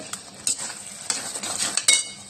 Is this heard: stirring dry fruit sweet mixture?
yes